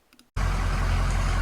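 Truck engine idling close by, a loud steady low rumble that switches on abruptly after a brief quiet moment and holds constant, with no talk.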